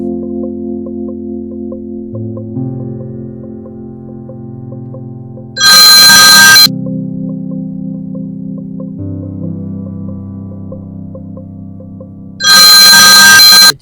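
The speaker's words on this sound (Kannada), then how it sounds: "ಯಾರು ನೋಡು, ಫೋನ್ ಎತ್ತಾರ ನೋಡ್ಬೇಕು ತಾನೆ" A phone rings in two loud, bright bursts about seven seconds apart, with soft background music playing between the rings.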